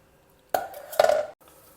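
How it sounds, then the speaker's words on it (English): Metal pressure cooker lid being opened after cooking dal, two sharp clanks and scrapes of metal close by, followed by a short quiet rustle. "Now let's open the cooker and have a look."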